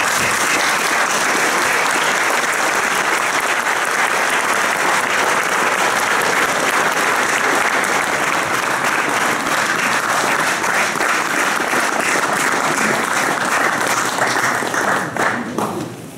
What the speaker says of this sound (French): Je pense qu'on peut vous applaudir pour tout ça.